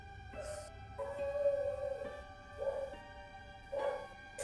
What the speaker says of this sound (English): Sorry for my dog in the background, if you can hear that.